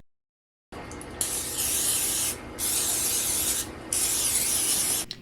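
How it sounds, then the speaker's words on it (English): Baking oil sprays onto donut pans in three sustained, loud hissing bursts of a couple of seconds each, separated by brief gaps, after a short silent start. "you still want to make sure that you spray these or oil these with some kind of baking oil pretty well"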